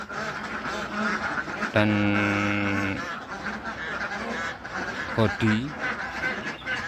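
Molting ducks give a loud drawn-out honking quack, then a couple of shorter calls a few seconds later, close by, with a person talking over them.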